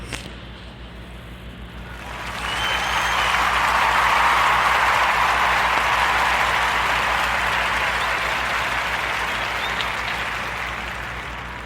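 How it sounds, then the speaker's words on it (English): A warm round of applause on a podcast, clapping that swells in after about two seconds and holds steady and full before easing slightly toward the end, with no talk over it. "let's give a warm Narrative Podcast round of applause to our brother Finley Matthews at Friendly Farms Market."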